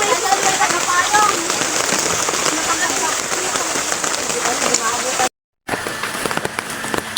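Heavy rain pouring down outdoors on a road, a dense, loud, constant patter and crackle of drops on surfaces, broken by a brief silent cut near the end.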